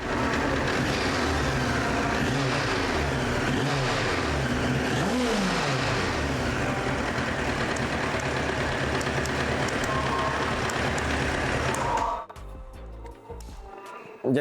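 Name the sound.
Honda CBR 919 SC33 1996 motorbike engine starting and revving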